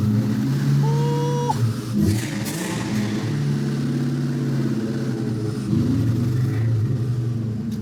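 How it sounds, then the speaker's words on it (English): A supercharged V8 Cobra Mustang idles with a deep burbling rumble, then revs sharply with a rising blower whine before settling back to a loping idle. "I cannot wait to hear this blower whine"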